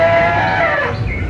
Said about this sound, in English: you're going to hear a ghost elephant